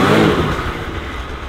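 A Polaris RZR side-by-side engine revving hard while driving on snow, a loud close roar that peaks at the start and then eases slightly as it holds steady.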